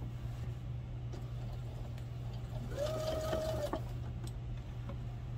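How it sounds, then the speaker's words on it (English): A sewing machine stitches over pom-pom trim on a baby bib: a low, steady motor hum runs throughout, with a brief rising whine of the needle running near the middle. "we're gonna be sewing over the pom-pom trim"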